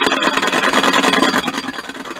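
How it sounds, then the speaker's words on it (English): An RC mechanical engine sound generator spins eight balls inside a can, making a dense, buzzy rattle like a running engine that persists throughout the short burst. "So I now have 8 balls inside the can. There's a bit more secondary sound coming, but the vibration coming from the can is much greater."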